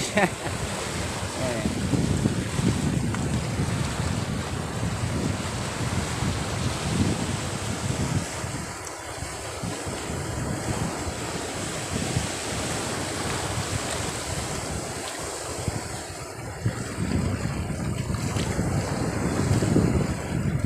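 Strong wind buffets the microphone over continuous rough surf on a windy day, with waves about a meter high crashing against rocks near the shore and breaking into foam, a steady loud roar throughout with no speech.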